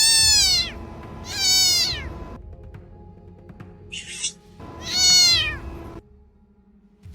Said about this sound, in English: Kitten trapped at the bottom of the dumpster.